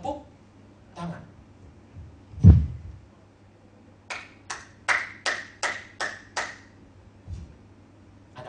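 A quick run of about seven sharp hand claps in a steady rhythm during worship teaching in an Indonesian church class, following a few scattered taps and a low thump, with a voice heard briefly beforehand.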